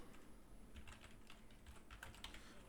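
Faint, soft clicking of a computer keyboard as someone types a line of code, irregular keystrokes close by in a quiet room.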